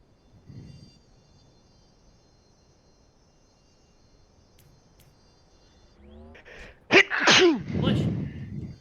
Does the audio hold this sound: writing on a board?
no